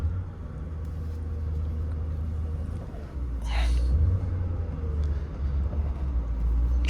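A 2003 Dinan BMW Z8 engine idles low and smooth while the car reverses, a steady deep rumble with a brief soft hiss partway through, heard without any talk.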